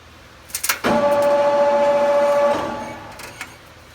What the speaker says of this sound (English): So you're grinding the scale off so when you stack them they'll weld right?